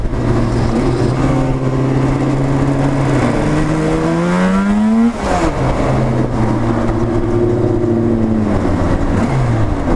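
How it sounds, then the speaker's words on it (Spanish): Yamaha RD 500 GP500 two-stroke motorcycle and a Maserati revving together on a road between Zarautz and Getaria, loud and close, with engine notes climbing and falling in sweeping pitch glides and no talk. "Suena carreras aquí, la GP500 y el Maserati este topepino."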